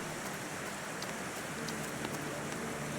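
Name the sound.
rain falling in a garden, from the video game The Thaumaturge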